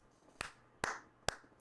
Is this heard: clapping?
yes